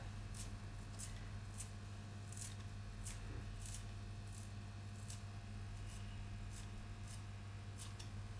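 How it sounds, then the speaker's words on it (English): Quiet, repeated snips of scissors cutting parsley, a quick irregular rhythm of small crisp clicks over a low steady hum. "I don't really chop it, I just use scissors."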